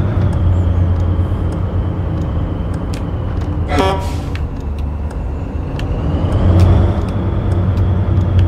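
Scania truck pulling a trailer in a driving video game, with a steady engine drone and a brief hissing air-brake burst midway, the engine swelling again near the end.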